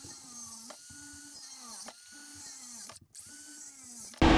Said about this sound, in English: And I'm going to countersink these as well.